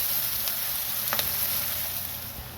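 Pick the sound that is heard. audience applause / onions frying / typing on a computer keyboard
onions frying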